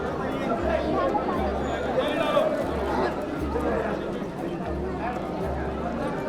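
Dense crowd babble at a busy temple village in Shani Shingnapur, many voices blending into a constant murmur with scattered nearer chatter and brief shuffling, steady and moderately loud.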